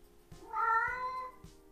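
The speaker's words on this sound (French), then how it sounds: "ça, c'est un chat qui escalade." Cat meowing loudly, one drawn-out, rising and falling meow close by, with faint soft thumps around it and no talking.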